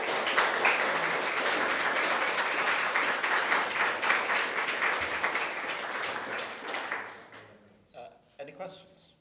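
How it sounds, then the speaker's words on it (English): An audience applauds a panel at a talk on games and climate transition, dense clapping sustained for about seven seconds before thinning out and fading, with a few scattered claps and voices at the end. "If you could give them a round of applause"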